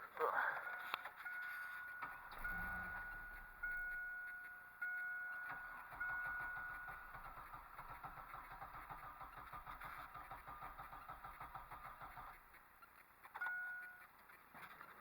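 A backup vehicle's engine cranks without catching: a mechanical whir that rises and falls in repeated attempts over a constant tonal hum, fairly faint throughout.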